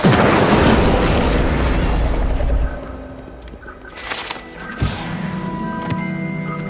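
Incendio fire spell cast in Hogwarts Legacy, a loud burst of roaring flame that dies down over a couple of seconds, followed by quieter crackles and a few softer pops.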